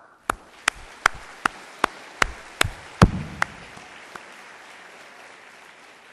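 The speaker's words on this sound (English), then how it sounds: "Let's give a round of applause to your lecturers and your parents." Sharp, sparse hand claps at a Singapore Polytechnic graduation ceremony: about nine distinct claps in slow succession, then a quieter tail that fades toward silence, with no talking.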